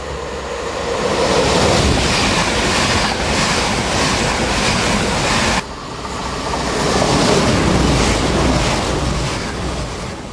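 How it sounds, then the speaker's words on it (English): A Northern Rail train on the Leeds to Doncaster service at a station rolls past with a loud, continuous rumble and rushing noise, swelling and easing with a brief dip midway. "Here is the Northern Rail service from Leeds to Doncaster."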